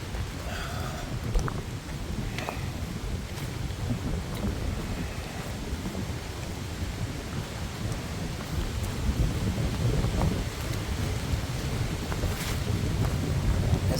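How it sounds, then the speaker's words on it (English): Steady heavy rain on the Appalachian Trail during a hurricane at a mountain shelter, a dense continuous hiss with wind rumble and occasional louder gusts or drips throughout. "It's still raining, by the way,"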